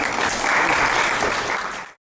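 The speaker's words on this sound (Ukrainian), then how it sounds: "Дякую, друзі, оплески" Spectators at a boxing event, a Tom Boxing Generation card, applaud in a brief, full burst of clapping that holds steady and then cuts off abruptly.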